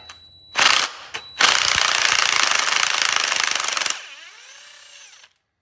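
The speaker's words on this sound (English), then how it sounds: "But I got a 10mm socket here on my impact." An impact wrench fitted with a 10mm socket removes header bolts on an LS engine during a long tube header install: a short burst, then a sustained loud rattling hammer lasting about two and a half seconds, followed by a fading whine as it spins down.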